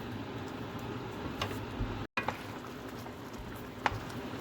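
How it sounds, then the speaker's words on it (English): Chayote and quail eggs simmer in coconut gravy with a soft, steady bubbling and faint popping, quiet and continuous, with a brief dropout midway and a couple of small ticks. "Let it boil until veggies are tender"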